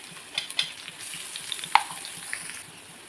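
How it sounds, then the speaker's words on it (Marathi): Finely chopped onion fries in hot oil with a steady, close sizzle, broken by a few light scraping stirs and no voices. "कांदा छान लाल होईपर्यंत आपल्याला भाजून घ्यायचा आहे"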